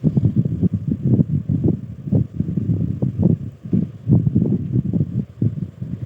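A sewing machine stitches a sleeve onto a blouse, a close, low, uneven mechanical thumping and whirring that pulses continuously as the fabric is fed through.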